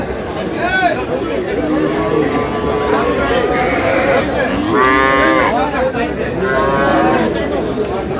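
Dairy cows and calves of improved breeds at a busy weekly cattle market in Aftabganj, Dinajpur, mooing repeatedly over a constant crowd murmur.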